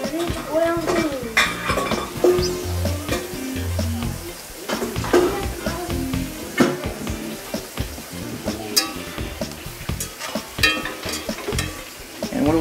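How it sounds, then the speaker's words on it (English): Shallots and garlic sizzle in bacon drippings in a hot pan while a utensil stirs and scrapes, with frequent clinks and clatter of cookware throughout. "Shallots and garlic are sauteing beans. Bacon drippings on this bacon."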